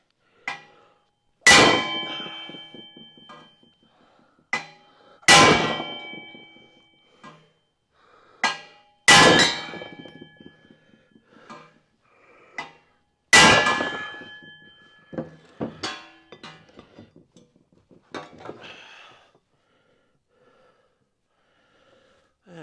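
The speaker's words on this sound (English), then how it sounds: "Let's see if I can find a heavier hammer." A hammer strikes a metal car body during restoration, with about six loud, ringing clangs spaced several seconds apart, each followed by a decaying metallic ring and some lighter taps, close up with no talk.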